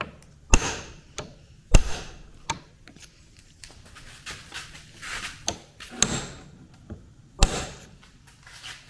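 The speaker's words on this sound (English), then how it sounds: "I'm going to take this punch and the hammer, and I'm going to just tap the nut" Sharp metallic taps ring out at irregular intervals as a hammer strikes a punch against a nut on the front differential of a 1997 Kawasaki Bayou 300 4x4, several strong hits among softer knocks, close by with no talking.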